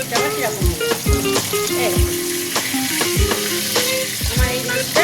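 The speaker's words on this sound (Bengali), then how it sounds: "আমার এই মাছটা ভাজা হয়ে গেছে, এবার আমি তুলে নেব" Pieces of catla fish fry in hot oil with a dense, continuous sizzle, punctuated by repeated sharp knocks and scrapes of a spatula against the pan. Speech is faint or absent.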